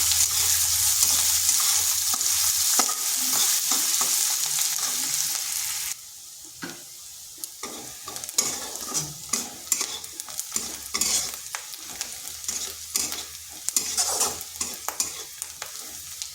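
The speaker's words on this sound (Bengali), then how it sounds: "এবার রসুন আর পেঁয়াজকে হালকা ভেজে নিচ্ছি যাতে তার কাঁচা গন্ধটা চলে যায়" Garlic and onion sizzle in a pan while a spatula stirs and scrapes them, a loud steady frying hiss at first, then quieter sizzling broken by repeated clattering stirs.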